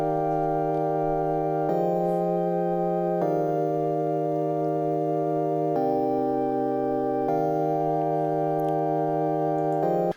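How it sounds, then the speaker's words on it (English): Thick sustained synthesizer chords, loud and smooth, shifting to a new chord every second or two with no gaps between them. "I lay down some chords that sound like this with a synthesizer"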